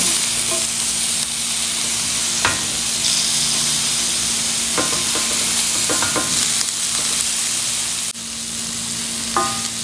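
Marinated chicken sizzles loudly on a barbecue grill, a constant close hiss broken by sharp crackles and pops, with a brief dip near the end.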